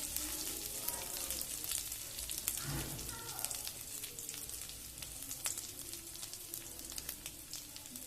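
Ginger and garlic frying with spices in hot oil, a soft continuous sizzle and crackle heard at close range, fairly quiet, with faint background noise and no clear talk.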